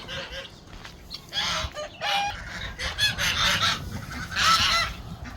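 Geese kept outdoors alongside guinea fowl and ducks honk in repeated loud bursts, several birds calling over one another at close range in an irregular, overlapping chorus.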